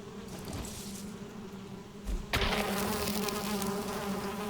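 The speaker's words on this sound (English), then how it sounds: "Those are the bees." Bees buzzing in the video game Valheim, a steady droning hum that swells louder midway as the swarm seems to close in, with no voices.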